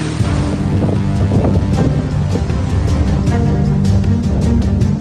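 Strong cyclone winds of Cyclone Biparjoy roar and buffet continuously in Morbi, Gujarat, loud and close, with a steady low rumble and gusty bursts.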